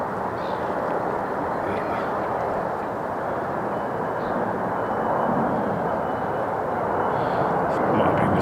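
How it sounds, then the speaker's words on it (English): Deep, broad roar of a Boeing B-52 bomber flying overhead with its landing gear down, a loud sustained rumble that swells slightly as it passes. "There goes the old B-52 again, guys."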